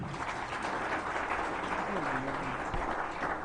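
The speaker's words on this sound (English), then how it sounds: "Please, another round of applause for him." Conference audience at a Middle Belt Alliance gathering in Nigeria giving a sustained round of applause, dense and steady throughout, with a voice briefly audible beneath it.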